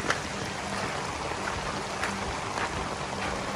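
Heavy rainwater runs like a stream across a school ground, a steady, moderately quiet wash of flowing water with occasional faint splashes.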